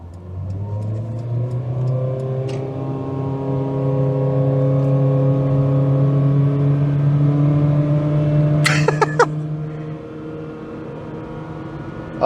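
A Nissan Micra CVT's engine drones as it accelerates at full throttle, holding a high, steady whine that rises gradually, with a few brief clicks near the end.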